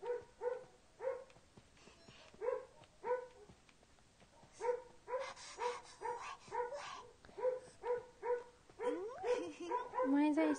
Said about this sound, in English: Oh my god, my dog won't stop.